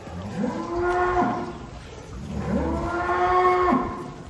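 Brahman cross cattle mooing, two long loud low moos close by, each rising and holding before breaking off, separated by a short pause.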